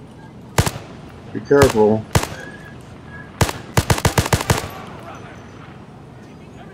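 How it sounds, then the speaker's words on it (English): Sharp gunshots from a VR shooter game played on an Oculus Quest 2 linked to a PC: scattered single shots, then a rapid burst of about eight in a row, with voices talking between them. "Oh, then he shot at you again."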